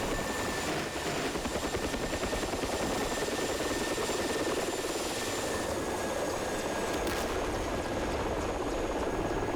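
A Mi-24P Hind helicopter in DCS roars with a steady, loud rotor and engine drone that holds without pause, its heavy thrum filling the scene, with no talking.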